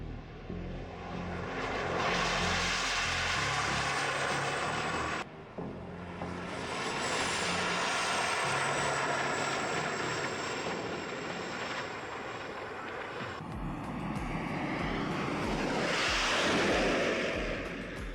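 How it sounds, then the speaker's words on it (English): A car powered by two helicopter turbine engines gives off a loud, continuous jet-like roar and whine, with a brief dip partway through and a shift in tone near the end, and no voices are heard. "replacing it with two turbine engines usually used in helicopters"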